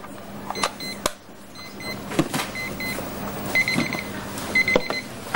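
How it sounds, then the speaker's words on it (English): A small alarm clock beeps in short repeated bursts, near and fairly loud, alongside scattered clicks and handling noises. "just a small little alarm clock like that"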